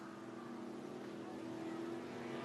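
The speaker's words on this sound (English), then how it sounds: "They sound like motorbikes racing. But they're motorboats in the harbor." Motorboats racing around a harbor, a faint, steady engine drone heard from a distance with a constant hum and no break.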